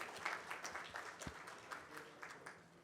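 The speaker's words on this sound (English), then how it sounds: "a huge round of applause for a wonderful panel" Audience applause at a mutual fund conference panel, a faint, steady patter of many hands clapping in a large hall.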